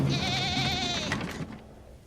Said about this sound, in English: the most meandering sheep at the back of the line